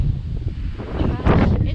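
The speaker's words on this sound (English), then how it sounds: "it's so windy. Of course it picks up right now." Wind gusts on the Appalachian Trail buffet the microphone with a loud, rumbling roar that swells and churns through the short moment.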